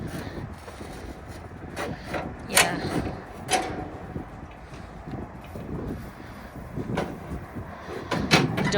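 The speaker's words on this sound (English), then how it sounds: "Doors jammed on the trailer." A jammed trailer door is worked outdoors in wind, giving scattered sharp metallic knocks and clanks at irregular intervals over a constant rushing wind background.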